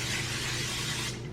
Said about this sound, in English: we're gonna spray our pan